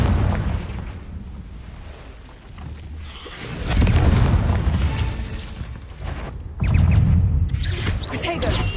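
Confringo spell blasts in a video game: rumbling explosive bursts swell loudly at intervals, close and heavy, with a voice calling out amid the combat.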